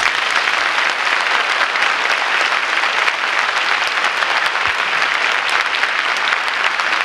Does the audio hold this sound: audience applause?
yes